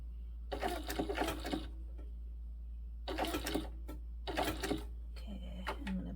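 A sewing machine stitches a bag in three quick bursts of rapid, even needle clatter separated by short pauses, close and fairly quiet over a steady low hum, with a softer mechanical rattle near the end.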